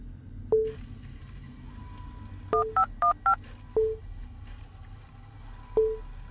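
Electronic beeps and tones in a short sequence, like a dial-up modem connecting, spaced out over a faint steady hum, in a retro-style alien abduction horror video game.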